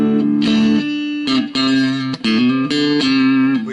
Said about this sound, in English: Let's flip up to the neck pickup